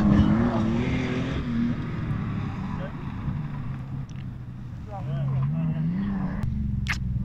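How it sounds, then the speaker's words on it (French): Peugeot 604 rally car at the Terre de Vaucluse historic gravel rally, its engine droning and rising in pitch as it passes at a distance, with wind and crowd noise around it. "Des images d'une voiture mythique, la Peugeot 604 il me semble."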